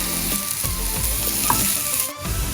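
Curry leaves dropped into hot oil with chopped onion and ginger garlic paste for a prawn masala, giving a loud, continuous crackling sizzle with a few sharper pops and no voices.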